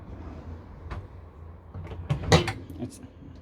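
A drawer in the Hymer Exsis i474, a small integrated motorhome, is slid open and shut with a few light knocks and one louder clatter, close by over a low background hum.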